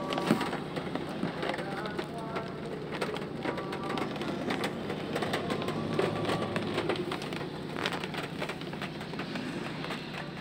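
Steady rain falls with a dense, continuous hiss and scattered crackly drops, a constant wash of sound with no voices.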